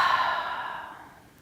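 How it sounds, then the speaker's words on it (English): One slow breath leaves through the lips, a soft, close, airy exhale that starts strongest and fades out over about a second and a half, with nothing else around it. "take 3 breaths where you inhale through your nose and exhale through your lips"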